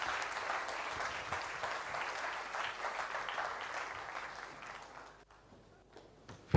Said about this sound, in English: Let's put our hands together as he comes.